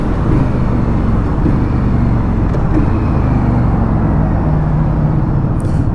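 A 2020 Indian Scout Bobber Twenty motorcycle cruises on the interstate with a loud, constant engine drone, mixed with heavy wind and road rumble and no pauses.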